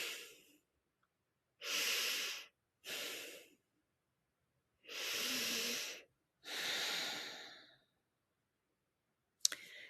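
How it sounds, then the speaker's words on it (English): Slow, deliberate breaths sound close to the mic: paired inhale and exhale bursts, each about a second long and separated by pauses, followed by a sharp click at the end. "take 3 mindful breaths and close your eyes."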